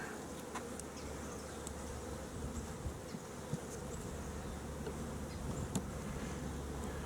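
Honey bees buzzing around an open hive, a dense steady hum close by, with individual bees zipping past now and then. No talk.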